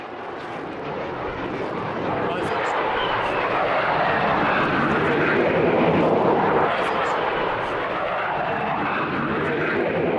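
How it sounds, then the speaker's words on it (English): A P-51 piston-engine fighter takes off at an air show, its engine a loud, sustained roar that swells and holds as the plane climbs away, with a broad rushing drone throughout. "The P-51 takes off"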